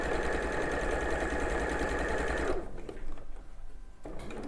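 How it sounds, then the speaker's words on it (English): A sewing machine runs on a normal straight stitch through fabric, whirring steadily and closely for about two and a half seconds before stopping. "I've just got my machine on a normal stitch"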